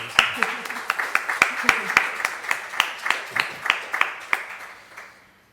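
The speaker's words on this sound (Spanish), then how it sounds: "me gustaría pedir un aplauso para Pablo" Audience at a book presentation at a university venue in Alicante gives a short round of applause: separate claps at a moderate pace from a small group, close by, fading out after about five seconds.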